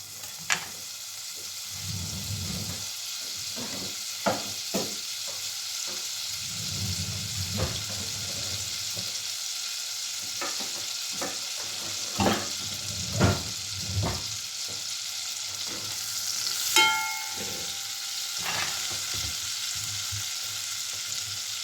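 Chopped onion and potato fry in butter in a pan, giving a steady, close sizzle throughout with occasional clinks and stirring knocks.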